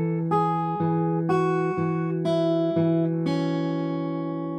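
A guitar picks the riff from a song slowly with thumb and fingers, plucking single notes one by one over open strings that ring on, near and alone.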